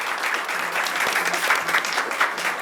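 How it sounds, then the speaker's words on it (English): A legislative breakfast audience applauds its panelists, a short burst of even, moderately loud clapping from a roomful of people. "I want to give a round of applause for our panelists, Corinne, Dr. Elliott, and Caitlin"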